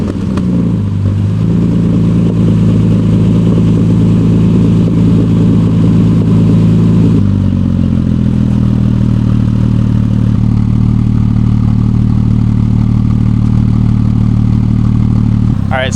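Porsche Cayman fitted with a Fabspeed Super Cup exhaust idling after a cold start, a loud, steady, deep drone that settles to a lower, even idle partway through.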